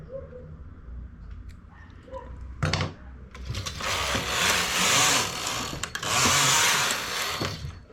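A sewing machine runs in short bursts while stitching a knitted garment, starting after quiet handling noises with a sharp clack, then a steady buzzing whir that briefly pauses and resumes.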